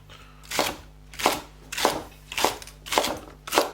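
A knife chops celery and leeks on a cutting board for homemade chicken stock, six or seven sharp, evenly spaced strikes at a steady rhythm, close and fairly loud with a faint hum behind.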